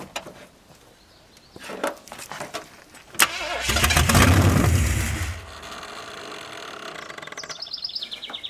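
A long-unused 1981 Ford Mustang 5.0 V8 cranks and catches with a loud, rough roar that lasts about two seconds before dropping to a quieter murmur, with scattered clicks beforehand and birds chirping outdoors.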